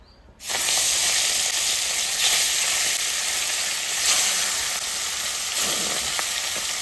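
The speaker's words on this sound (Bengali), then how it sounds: "আমার তেল গরম হয়ে গেছে, মাছটা ছেড়ে দেবো।" Shrimp dropped into hot oil set off a sudden, loud, close sizzle that starts abruptly after a quiet moment and then holds as an even, dense hiss without speech.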